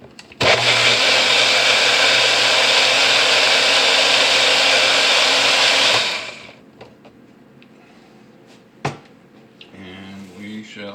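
Bullet blender whirring loudly and steadily for several seconds while mixing cheesecake filling, then cutting off, followed by faint handling clatter and a single knock.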